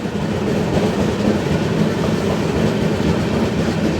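The Konark Express rolls past the Telangana Express at a junction, a steady close rumble of wheels and carriages with faint clickety-clack and no voices.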